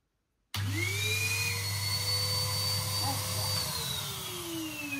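A Henry vacuum cleaner switches on abruptly and runs with a loud steady whine and low hum, its pitch shifting slightly as the hose is moved, close by.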